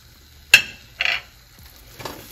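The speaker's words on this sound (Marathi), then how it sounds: "पुन्हा एकदा मिक्स करून घेते व्यवस्थित." Coconut burfi mixture stirred in a pan: three separate scraping strokes, each short and close with a faint sizzle, and quiet gaps between them.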